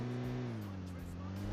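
A car engine in the PUBG battle royale game drones steadily and close at a low, even pitch for the whole moment, with a slight drop in tone midway.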